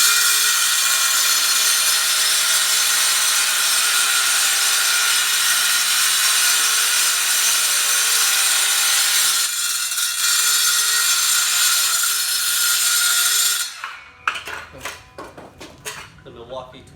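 A Milwaukee Fuel brushless 7 1/4-inch circular saw with a cement blade cuts tile in a loud, continuous grinding whine for about thirteen seconds, then winds down into a burst of clattering knocks.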